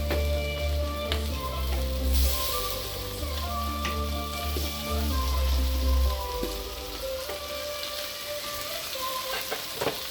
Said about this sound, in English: eggs are cooking, bacon's cooking, bacon's nearly done